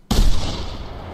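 A single sharp shotgun blast from a hunting rifle setup in theHunter video game, loud and close, with a short rumbling decay and no talk.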